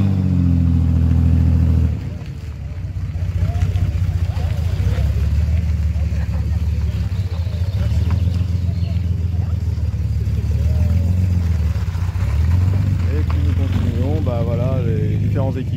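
A Datsun 260Z engine runs and revs at a classic car rally, a low rumbling drone with surges of acceleration, heard under someone talking.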